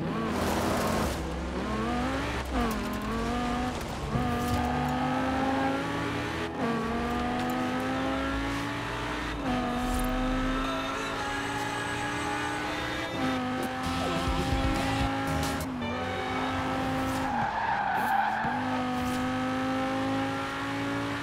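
Stunt car driven in the Forza Horizon 4 racing game, its engine revving up and down in repeated surges with tire squeals and skids, loud and continuous with no voices.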